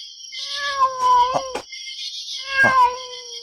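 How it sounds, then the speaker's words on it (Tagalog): A cat meows twice, each call loud and near and drawn out into a wavering cry, with a quiet pause between them. "Pusa."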